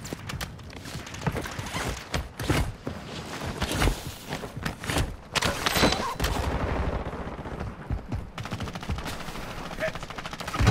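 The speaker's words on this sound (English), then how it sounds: "I'm getting shot." Rapid bursts of Warzone 2 gunfire, loud close automatic volleys and scattered shots in irregular clusters, with a brief lull before more firing resumes.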